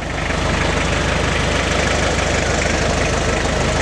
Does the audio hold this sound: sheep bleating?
no